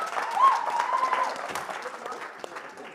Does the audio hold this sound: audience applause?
yes